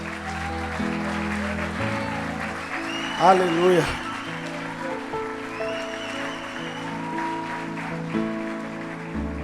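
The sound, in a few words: church congregation applauding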